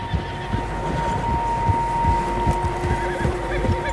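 Several horses in a video game snort and whinny while hooves clop in an irregular patter, all set against a constant ambient hum.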